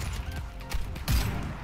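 Muffled gunfire thuds and rattles from the online shooter Warface, with a heavier burst of shots near the end and no talking.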